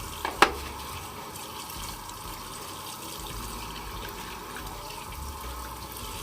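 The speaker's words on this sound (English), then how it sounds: "Give myself a quick wash off and grab the old barber's towel and just give myself a nice light pat." Water splashing and running at a sink while rinsing off after a shave with a Merkur Futur safety razor: one brief sharp splash at the start, then a steady faint stream of flowing water.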